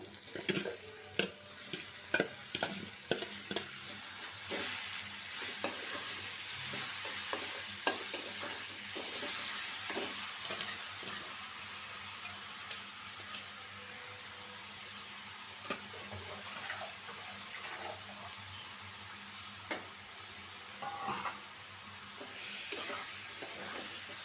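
Greens of data shak sizzling and frying in a pan with reddened onion and garlic, steady hiss throughout with frequent sharp stirring scrapes and clatters of a utensil, close and fairly loud.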